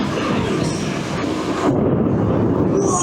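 Close thunder from nearby lightning during a summer storm at Magic Kingdom, a loud sustained rumble with a heavier surge partway through, filling the whole clip under steady wind and rain noise.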